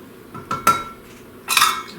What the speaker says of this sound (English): Now, lastly, I'm going to add my flour. This is 1½ cups of all-purpose flour. So let me add that to it. And we're going to mix that up.